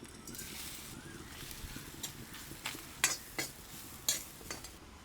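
Grated coconut with fennel, cinnamon, cardamom, cloves and peppercorns frying in coconut oil in a village kitchen, a low steady sizzle broken by several sharp spoon scrapes and clinks.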